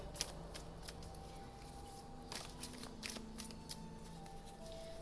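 A deck of oracle cards is shuffled by hand, giving a steady stream of soft, rapid riffling and slapping clicks, close and fairly quiet, with no talk.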